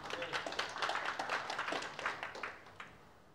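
Congregation clapping for Jesus during a Sunday church service, a steady patter of many hands at moderate distance lasting a few seconds, fading slightly toward the end.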